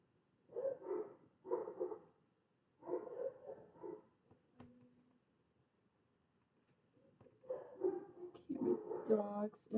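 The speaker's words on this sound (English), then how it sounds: "Dogs in my stream because my dogs are loud." Several loud dogs bark in short bursts near the start and again toward the end, with a quiet gap between.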